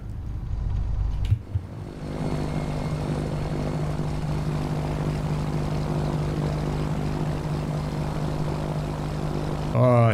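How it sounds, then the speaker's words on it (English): VL3 light airplane with a propeller engine passing by, a steady droning hum with a constant low tone lasting several seconds, moderately loud and unbroken, after a brief thump at the start. "Somebody's flying a VL3. I love that airplane."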